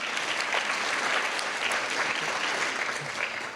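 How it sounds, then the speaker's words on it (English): Steady audience applause at a Hispanic Heritage Month celebration hosted by a city mayor, a continuous wash of many hands clapping at moderate loudness for several seconds. "let's give her another round of applause."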